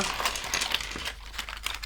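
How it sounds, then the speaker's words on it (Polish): Small accessories for a GMMK3 HE gaming keyboard are poured out of their box, giving a quick clatter of light plastic clicks and rattles with a faint crinkle of packaging, close and moderately quiet. "Wysypię te akcesoria."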